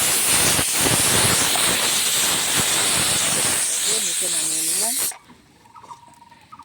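A pressure cooker whistles loudly, releasing a sustained hiss of escaping steam for about five seconds before cutting off sharply, leaving a quiet room with faint clatter.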